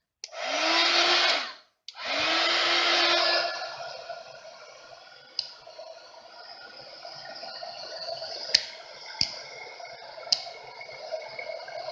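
A heat tool blows hot air over copper embossing powder on a card, running in two loud steady bursts with a brief pause between them, then easing into a quieter background hum with a few faint ticks.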